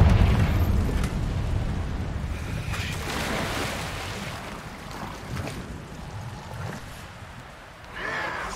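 Spell blasts from Bombarda and Confringo in the Hogwarts Legacy video game, rumbling booming explosions with heavy low-end roar and crackling debris that gradually fade, a fresh burst rising near the end.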